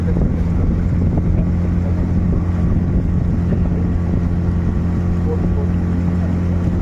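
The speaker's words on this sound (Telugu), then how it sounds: "బోట్లు రా అవి, బోట్లు అవి, అవన్నీ బోట్ తీసానా." Boats at the port in Pondicherry produce a loud, steady engine drone with a low hum throughout, mixed with wind buffeting the microphone.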